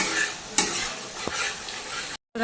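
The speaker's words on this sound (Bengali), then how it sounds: "এই দেখো মশলাটা প্রায় কষানো হয়ে গেছে" Spice paste fries in hot oil for a Bengali pabda fish curry, a close, busy sizzle with a sharp utensil scrape and a clink as it is stirred, then a brief cut to silence near the end.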